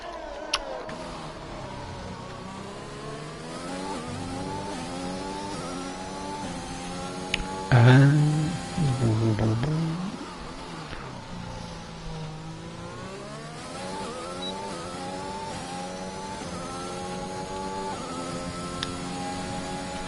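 F1 2021 game car engine on a hot lap at Bahrain, a steady high engine whine rising and falling through gear changes, with a louder revving passage midway and talk over it.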